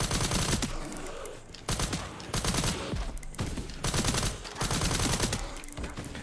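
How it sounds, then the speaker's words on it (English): Gunfire from the classic carbine SMG in Resident Evil 9: Requiem, heard as several sustained rapid-fire automatic bursts, loud and close, separated by brief pauses. "I love the classic carbine. It's such a dope gun. Definitely the best SMG in the game."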